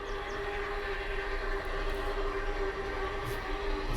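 Steam locomotive 611 passes on a photo run-by at Lowry, Virginia, between Roanoke and Lynchburg, in the 1980s. A continuous rumble holds under sustained whistle-like tones, fairly distant and even in loudness.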